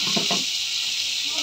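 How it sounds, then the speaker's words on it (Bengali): Potatoes are stir-fried in a pan with a continuous close sizzle, and a couple of brief scraping stirs land near the start. No one speaks. "এখন আলুটা আমি ভালো করে কষাবো আর কি।"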